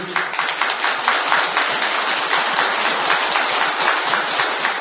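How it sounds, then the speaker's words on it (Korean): An audience at a Buddhist dharma talk during a Huayan assembly at Tongdosa temple breaks into applause, a dense, even patter of many hands that holds steady for about five seconds with no voices over it. "박수치라고 한 것도 아닌데, 어쨌든 박수는 좋은 거네요"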